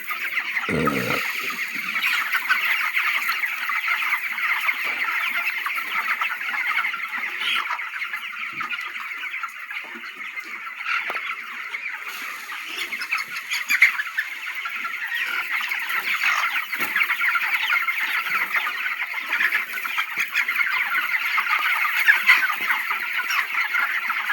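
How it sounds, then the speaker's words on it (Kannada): Twenty-day-old chicks on a chicken farm keep up a dense, continuous chorus of high peeping and cheeping, many birds at once, steady and fairly loud throughout. "ಇವು ಈಗ ಇಪ್ಪತ್ತು ದಿನದ ಮರಿಗಳಾಗಿವೆ"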